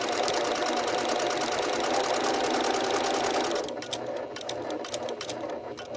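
Sewing machine backstitching along the edge of a fabric drawstring bag, a steady close whirring stitch that runs continuously, then shifts to a lighter, choppier rhythm of short bursts.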